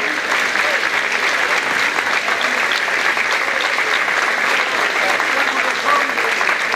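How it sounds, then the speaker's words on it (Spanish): Loud, continuous applause from an audience at a women's tea event organised by the local government, a thick steady roar of clapping with faint voices mixed in. "fuerte el aplauso para todos ellos y todas ellas que son los que han colaborado"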